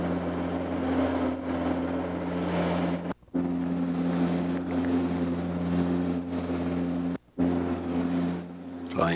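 Steady drone of a Nordair airliner's engine in flight over the Penny Ice Cap, a loud continuous hum with strong low tonal bands and broadband rush, briefly dropping out twice, with no voices.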